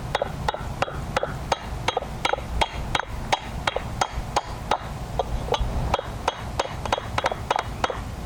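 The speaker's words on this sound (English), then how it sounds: "And I've just been hammering," A heavy ball peen hammer strikes metal resting on a wooden stump while dishing a Viking Age shield boss, with steady, evenly spaced ringing blows, roughly two per second, close and alone.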